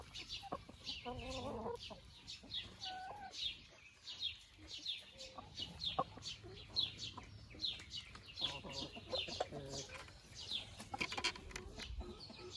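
A Marans hen in a backyard flock clucks repeatedly up close, a busy run of chirpy clucks and throaty murmurs with other birds chirping around it over a low background hum.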